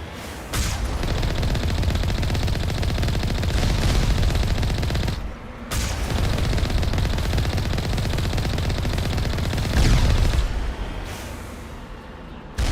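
Turret gunfire rattles on in the video game Mass Effect Legendary Edition, loud and dense, in long sustained bursts broken by a couple of brief pauses.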